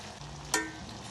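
Liquid with flowers for a summer drink coming to a boil in a pot on the stove, a faint steady hiss of bubbling with one brief sharper pop partway through, no talking.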